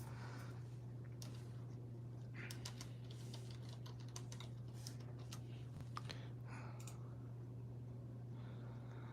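Rapid, uneven keystrokes of a password being typed on a computer keyboard, close and clear over a steady low electrical hum, with no talking.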